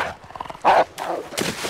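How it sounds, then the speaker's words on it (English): A dog in a film barks a few sharp times amid tense scene sounds, moderately loud and brief, with some faint voices in the mix. "Dog coming after you would be scary."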